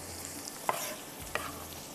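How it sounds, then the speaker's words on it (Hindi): Onions and tomatoes fry lightly with chana dal on a tawa, a low steady sizzle with a couple of quick stirring scrapes standing out briefly. "यहाँ पर हम प्याज और टमाटर भी, जब तक ये थोड़े सा हल्का सा फ्राई होगा।"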